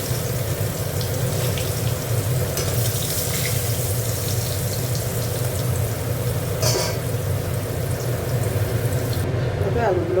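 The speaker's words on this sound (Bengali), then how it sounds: "আলুগুলো একটু ভেজে নিচ্ছি" Potatoes fry in oil in a pan, giving a steady, close hiss and crackle that continues evenly throughout, with a few faint clinks near the end.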